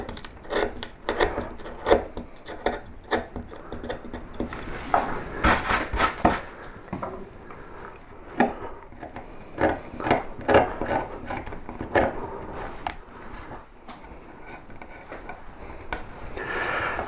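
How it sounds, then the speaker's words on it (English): A small bent skew chisel picks out wood while carving an Arts & Crafts clock, producing a series of close, crisp scraping and ticking cuts in irregular bursts with no talk. "this little bent skew will get in very nicely. Just pick that little bit of wood out."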